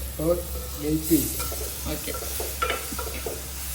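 Curry stirring and frying in a pan in a home kitchen, a soft steady sizzle with scraping stir strokes, close, under a voice talking in the background.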